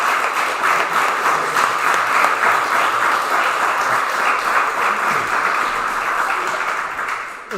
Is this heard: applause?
yes